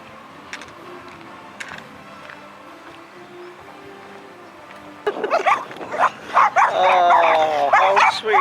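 Dogs at breeding kennels on a Welsh coastal path, starting with faint distant yips and then breaking into a loud close chorus of overlapping barking and howling.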